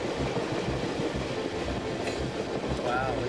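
The Skeena passenger train rolls through the Canadian Rockies toward Prince Rupert on the Pacific coast, with a steady rumble, rhythmic clickety-clack of wheels and a faint squeal near the end, heard from inside the carriage.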